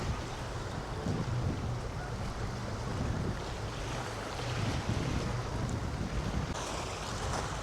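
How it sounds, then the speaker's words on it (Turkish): Strong storm-force wind roars across a hilltop, a constant loud buffeting rumble against the microphone with no pauses. "Burada da acayip derecede bir rüzgar var. Böyle fırtına derecesinde."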